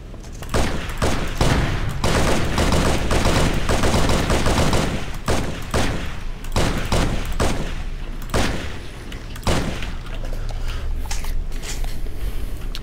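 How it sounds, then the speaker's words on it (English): Rapid assault rifle bursts in Halo SPV3, fought at close quarters against flood parasites, loud repeated volleys of automatic fire with brief pauses between bursts across the whole stretch. "I'll take the assault rifle for now."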